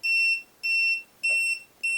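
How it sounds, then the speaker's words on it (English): An Allpowers S1500 portable power station gives its shut-off signal: four loud, piercing electronic beeps, each about a third of a second long, in an even on-off rhythm, close and clear with no talking. "that's a really loud beep so that you know that it's actually turned off"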